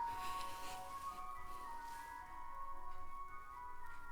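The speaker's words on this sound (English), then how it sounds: "there is an incredibly loud ice cream truck driving by" An ice cream truck passes outside, its tinny, steady melodic jingle ringing on for the whole stretch at moderate loudness with no voices over it.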